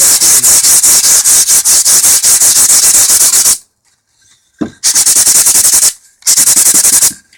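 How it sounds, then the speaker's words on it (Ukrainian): A wooden box is sanded by hand in loud, rapid, rhythmic scratching strokes, running for several seconds, pausing, then resuming in two shorter bursts close to the microphone. "Беремо таку і зашкурюємо."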